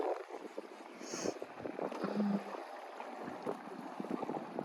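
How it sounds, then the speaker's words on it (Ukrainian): Small waves lap softly and continuously against the shore, mixed with gusty wind noise on the microphone. "Розслабляє цей звук. Хвиль хоч і невеличких."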